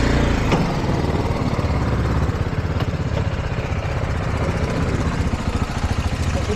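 A motorcycle engine in second gear runs steadily nearby with a rough low rumble and an even mechanical throb, no voices over it.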